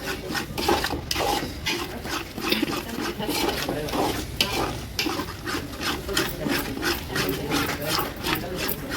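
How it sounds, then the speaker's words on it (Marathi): Food is stirred continuously in a pan of hot oil over a low flame, with rhythmic scraping and a soft frying hiss, close and steady throughout. "आता हा पूर्ण शिजवून घ्यायचा तेल सुटेसपर्यंत"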